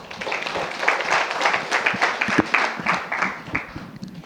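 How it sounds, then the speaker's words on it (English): Scattered, uneven clapping from a modest audience at a young women in politics conference opening, the claps rising and falling in loose bursts over a few seconds. "Please give her a round of applause"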